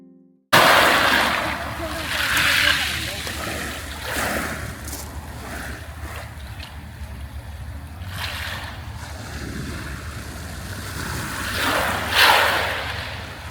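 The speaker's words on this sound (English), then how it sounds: "When the water recedes, it makes like a cool sound." Sea waves wash in and recede over soft, rounded gravel on the beach at Civitavecchia, with a repeated hissing, rattling surge and wind noise, while someone talks over it.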